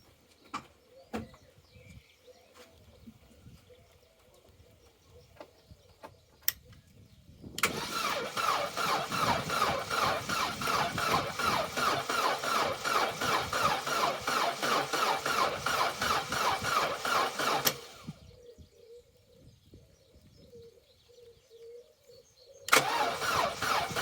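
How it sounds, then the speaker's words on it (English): Opel Corsa B engine cranking without catching: a steady, loud starter-motor churn runs for about ten seconds, stops, then a brief second crank begins at the end, with faint clicks before. "So let's go for a crank, hoping for something more positive this time."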